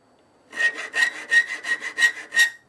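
A hand saw cutting with seven steady rhythmic strokes, each a rasping back-and-forth rush, close and clear with quiet pauses between strokes.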